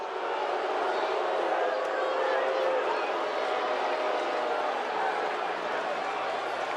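A large stadium crowd at a Nebraska vs Iowa State college football game keeps up a steady, distant roar of murmuring and booing, a sustained wash of noise with no distinct breaks.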